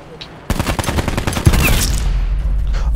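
Rapid bursts of video game gunfire fill the clip after a quiet first half second, dense and loud with a sharper shot near the middle, while players shout over a vehicle on fire.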